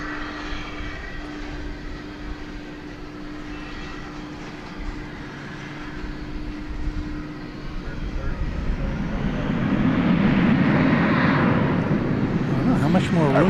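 Airliner at DFW airport, a steady jet engine rumble that swells louder toward the end as the plane draws near, with a voice talking over it.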